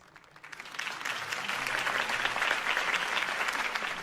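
A video game crowd breaks into applause for a speech, swelling quickly within the first second and holding steady as dense, sustained clapping.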